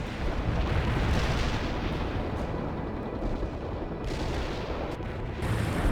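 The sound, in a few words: artillery fire in World in Conflict video game cutscene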